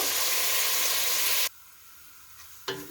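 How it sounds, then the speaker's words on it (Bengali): Tofu frying in butter crackles with a loud, dense sizzle for about a second and a half, then cuts off abruptly into near silence, followed by a short utensil clink near the end. "আমি tofuটা একটু ভেজে নিয়েছি বাটার দিয়ে"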